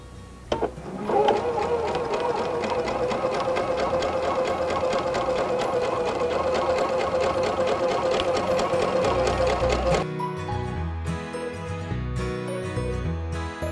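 A sewing machine stitches rapidly and steadily during free motion quilting of a circle along a ruler, a close, even mechanical patter that stops near the end, followed by faint handling sounds.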